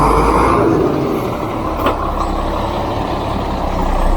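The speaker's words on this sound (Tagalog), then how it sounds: "Yun, may bus" A bus rumbles loudly nearby at the SCTEX exit, with heavy engine noise throughout and a short hiss of air brakes partway through, with no talking.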